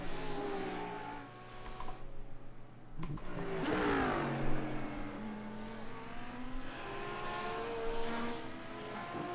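GT3 race cars, a Lamborghini and a Porsche, in a racing video game, their engines droning and rising in pitch through gear changes, with one car sweeping past in a loud whoosh before the steady roar resumes.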